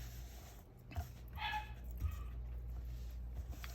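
Puppies and dogs whimper and yip softly in short, high-pitched bursts over a low steady background hum, with a few brief whines scattered across a few seconds.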